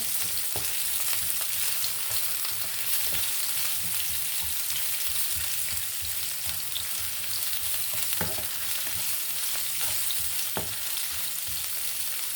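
Potatoes fry in a pan with a steady, close sizzle and scattered crackles and pops that run evenly throughout, with no talking.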